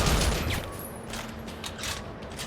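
Turret gunfire and explosions in the Haze video game, a dense burst of rapid shots and blasts that is loudest at the start and then keeps up as a steady, rough barrage with no talking.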